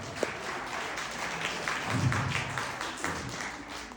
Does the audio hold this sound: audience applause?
yes